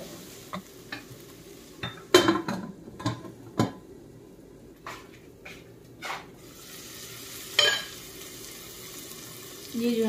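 Frozen peas sizzle in a pan while a spoon stirs them, a quiet steady frying hiss broken by a string of sharp clinks and scrapes, some louder than others.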